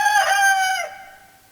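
A human voice imitates a rooster's crow in one drawn-out call that rises and fades away.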